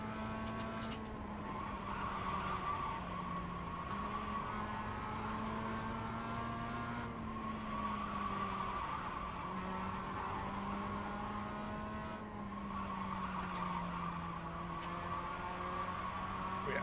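A Mazda MX5 Cup car oversteers at Portland in iRacing, its engine holding a steady drone while sustained tire squeal and skidding run underneath, loud and continuous with slight pitch shifts.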